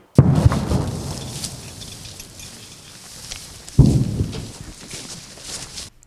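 Two heavy explosions boom near power line repair work in the Donetsk region, each a loud sudden blast followed by a long rumbling decay, spaced a few seconds apart.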